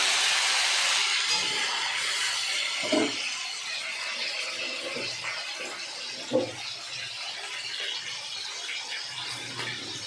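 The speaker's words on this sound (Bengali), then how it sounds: "তেলটা গরম হয়ে গেছে, আমি ছোলাগুলো দিয়ে দেবো। এগুলো ফাটবে, একটু সাবধানে।" Chickpeas dropped into hot oil set off a loud, rushing hiss that slowly eases, broken by a couple of sharp pops.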